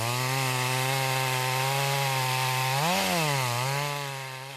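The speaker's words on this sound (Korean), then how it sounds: "헛도는 톱날." A chainsaw runs loud and steady with a strong droning whine as its chain spins without biting into rain-wet timber, its pitch briefly rising and dipping before it trails off slightly.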